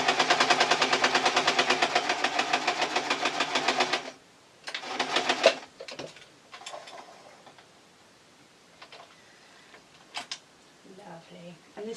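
A basic modern sewing machine stitches a French seam on a tee shirt dress: a rapid, loud rhythmic mechanical chatter for about four seconds, a brief second burst, then quiet with faint handling clicks.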